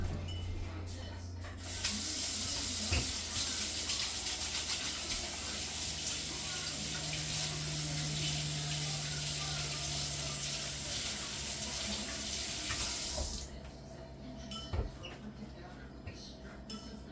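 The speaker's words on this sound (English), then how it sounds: "I'm gonna wash my hands." Water runs steadily from a kitchen tap while hands are washed during sourdough bread making, a continuous hiss for about eleven seconds with faint splashes, then the flow shuts off.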